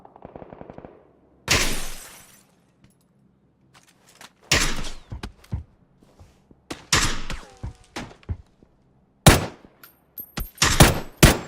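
Video game gunfire from PUBG: several separate bursts of shots and impacts, loud and sharp, with quiet gaps between them and no talk over them.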